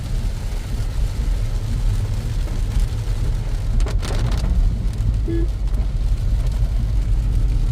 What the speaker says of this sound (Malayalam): പെട്ടെന്ന് മഴ, കാലാവസ്ഥ തണുപ്പ്